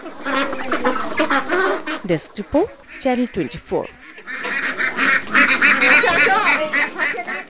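A dense chorus of ducks quacks loudly and continuously, with a voice speaking briefly in the middle.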